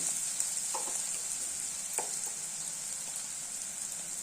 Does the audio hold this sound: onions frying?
yes